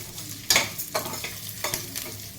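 Moong dal (pesarapappu) with onion is stirred in a pot for a pesara pappu pulusu, several distinct scraping strokes of the spoon over a faint steady sizzle, close and quiet.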